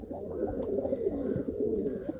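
Breeding pigeons held in a loft, including a spotted racing bird, coo in soft overlapping low throaty calls, a steady murmuring chorus close by with no talking.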